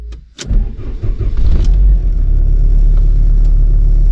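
A Volkswagen Corrado G60 engine cranks briefly, catches, and settles into a loud, steady idle that rumbles on to the end.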